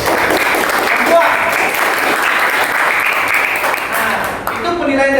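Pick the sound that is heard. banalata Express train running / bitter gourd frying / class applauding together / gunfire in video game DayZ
class applauding together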